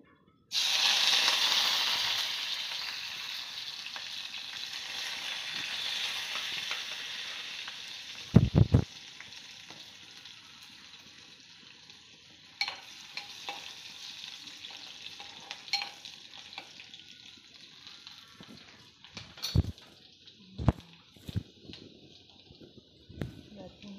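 Curry leaves and onion crackle loudly in hot tempering oil for several seconds, then the sizzle settles into a softer hiss broken by sharp clatters of a spoon against the pan.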